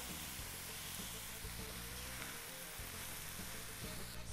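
Chopped onions with two teaspoons of salt sizzle steadily in a pan, a dense, continuous crackle that stays close and fairly quiet, with no talk over it.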